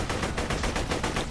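Rapid automatic gunfire from the video game Borderlands: The Pre-Sequel, a loud, steady rattle of repeated shots pulsing at an even rhythm with no pauses.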